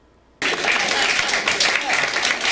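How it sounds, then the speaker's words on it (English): Steady applause from an audience, a dense wash of clapping that starts abruptly after a brief quiet moment and holds at an even level. "Sure, I'll give her the applause."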